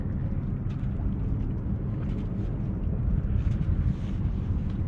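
A sailboat under mainsail in the Bay of Gibraltar, with constant wind buffeting and a low rumble from the water and hull, steady and close throughout with no speech.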